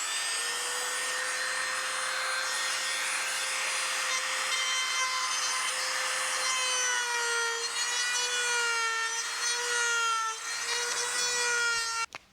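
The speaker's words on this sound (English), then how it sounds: "I'm just going to take this ball Dremel and go in here and create an undercut" A ball-tipped Dremel bit grinds an undercut inside a drilled hole while fitting a transducer plate to a 1967 StarCraft boat, a steady high-pitched rotary whine that shifts slightly in pitch, then cuts off abruptly.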